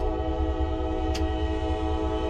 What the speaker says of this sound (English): And there's a train.